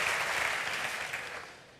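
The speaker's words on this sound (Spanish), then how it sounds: "Muchas gracias por esos aplausos cuando he entrado" Audience applause at an interview event at Social Antzokia, a dense burst of clapping that fades out toward the end, heard alone.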